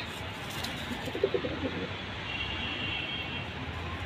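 Pigeons in a fancier's collection give a few soft, low coos near the middle, faint beneath a steady background hum of the room, with people talking nearby.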